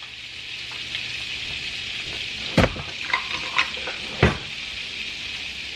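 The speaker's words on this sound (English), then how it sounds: "I'm gonna start by just melting some butter in here" Butter melting in a pan gives a steady, fairly quiet sizzle and crackle, with a few sharp clinks and knocks of a utensil against the pan, and no voice.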